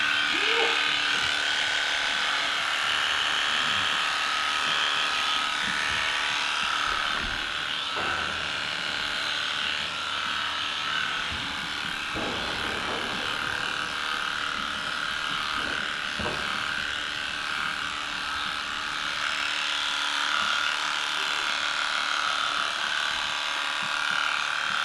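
An Aesculap Econom Equipe horse clipper runs with a steady electric buzz while trimming the lower legs of a horse, continuous and close throughout, with small shifts in tone as the blades move over the hair.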